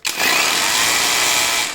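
A WOSAI cordless rotary hammer runs steadily and loud, close by, with a sharp start and a continuous whirring buzz that tails off slightly at the end, no voices.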